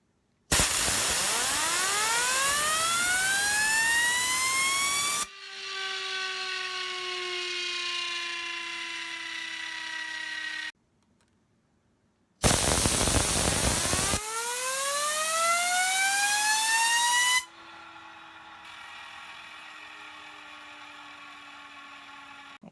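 A VC-EDC Micro Triton fidget spinner blown up to speed by breath: two loud rushing blasts of air, each followed by a rising whirring whine that hums on steadily for several seconds, close and alone.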